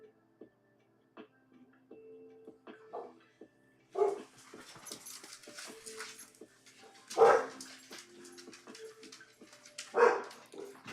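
Dogs barking indoors in several sharp, loud barks spaced a few seconds apart, with whimpering and yips in between.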